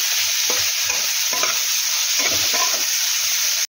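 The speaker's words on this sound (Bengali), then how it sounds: "পেঁয়াজটা সুন্দর করে লাল লাল করে আগে ভাজবো" Onions sizzle in a pan with a bright, steady hiss, while four or five rhythmic spatula strokes scrape and stir through them, close and loud with no voices.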